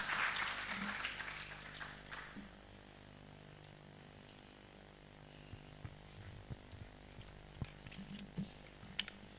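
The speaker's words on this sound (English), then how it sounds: "Let's give him a big hand clap as he comes to welcome all of us." An audience at an indoor dissemination workshop claps, dense and loud at first, then thinning into scattered, fading hand claps under a faint background hum.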